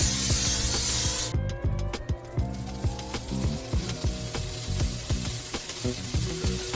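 Tofu scramble mixture sizzling and hissing in a hot pan, a loud steady fry that drops after about a second into a busier crackle with repeated scraping and stirring taps, no voices.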